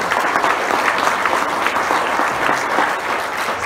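Loud, steady applause from an audience at a youth event in a hotel venue, dense continuous clapping close to the listener with no talk over it.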